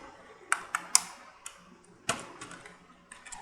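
Quick bursts of keystrokes on a computer keyboard while HTML5 code is entered, a close, quiet, irregular series of sharp clicks with short pauses, heard alone.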